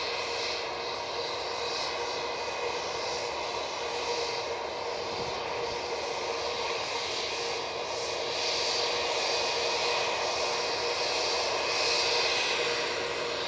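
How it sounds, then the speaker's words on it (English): An Etihad airliner takes off from Manchester Airport bound for Dublin, a sustained distant jet rumble that holds steady and swells slightly toward the end. "Etihad's off to Dublin."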